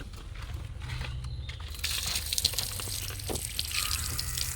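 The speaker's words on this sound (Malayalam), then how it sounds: "ഫസ്റ്റ് ഒന്ന് കാലി കഴുകാം." Water splashes and runs over feet being washed at a temple, starting quietly and swelling into a fuller, close rushing patter that continues to the end.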